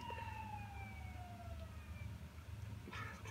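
A police siren in the video game LSPDFR wails faintly in the distance, its tone sliding downward over a low, steady engine hum.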